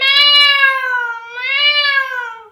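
A voice imitating a cat's meow in a bright, nasal tone: two drawn-out, rising-and-falling meows in close succession, loud and near, with no other sound around them.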